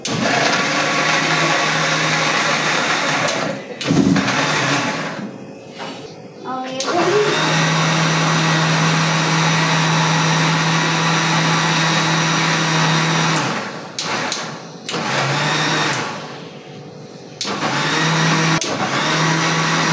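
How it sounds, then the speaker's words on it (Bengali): A kitchen blender whirs loudly and steadily at close range, pausing briefly a few times before starting again. No speech is heard. "এখন খালি ব্লেন্ডার করবো"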